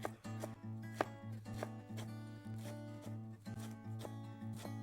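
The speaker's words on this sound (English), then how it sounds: "let's chop up these herbs real quick" A knife chops fresh herbs on a cutting board in a home kitchen, making a steady series of crisp, close, rhythmic cuts with a few sharper knocks, and no talking.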